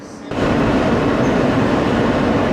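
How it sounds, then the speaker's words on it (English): An NYC Subway R160 N express train rolls along, a loud steady roar of wheels and motors that swells in within the first moment and holds constant throughout. "This is a Ditmars Boulevard bound N express train."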